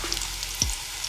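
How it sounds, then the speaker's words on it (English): Breaded vegan catfish fries in hot oil with a steady close sizzle and a few sharp pops and crackles, no voices. "we're gonna go ahead and start frying a few"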